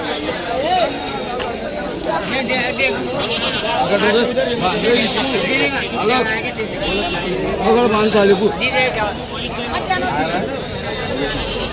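Goats bleat repeatedly at a busy goat market in Chopda, overlapping calls near and far with people talking all around.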